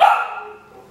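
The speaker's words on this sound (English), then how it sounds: "Mike's just gone upstairs, and Piglet thinks it's really funny to do lots of barking." A dog lets out a single loud, close bark that rings briefly and then trails away into a quiet indoor room.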